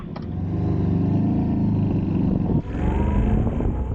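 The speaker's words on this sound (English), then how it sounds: "lovely twin rumble, listen to that" Yamaha Tenere 700 twin-cylinder motorcycle idling up close, a deep, loud, steady rumble with a brief dip before settling back into its low throb.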